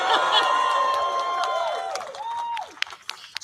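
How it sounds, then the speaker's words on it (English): At a Kamala Harris rally in New Hampshire, a crowd claps, cheers and whoops loudly, with sustained shouted tones fading over a few seconds as the noise dies down. "Yeah, you can clap, that's all right."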